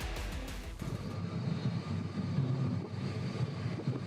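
A large passenger airliner at a counter-terror training exercise gives off a steady jet-engine roar, a continuous rushing drone heard from a moderate distance with no talk.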